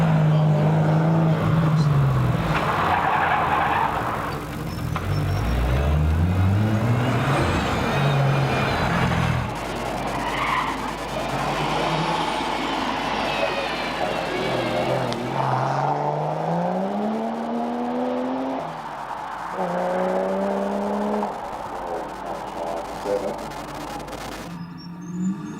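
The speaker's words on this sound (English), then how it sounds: "As you see the Cressida of Jake Bembele making its way to the top of the hill." A Toyota Cressida race car climbs a hillclimb course at the Legend of the Lakes event, its engine revving up and down through gear changes as it passes and fades into the distance, loud and continuous.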